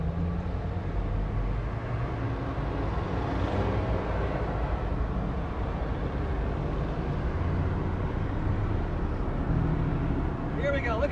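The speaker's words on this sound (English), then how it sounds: "Look at the BMW passing by right now" A BMW car goes by, heard as a steady, fairly loud broadband road rumble that holds level throughout rather than rising and fading, with outdoor background noise.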